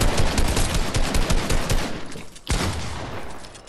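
Dense, rapid bursts of gunfire from a Fortnite match, loud and continuous, with a brief dropout near the end before the volley resumes.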